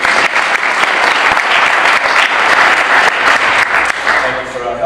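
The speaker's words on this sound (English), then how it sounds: "I want to give you a round of applause." An audience gives a loud, steady round of applause at a talk on youth, community and food, with dense clapping sustained throughout and tapering slightly near the end.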